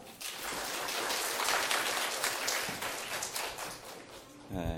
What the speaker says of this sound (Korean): 모실 때 큰 박수로 맞으시기 바랍니다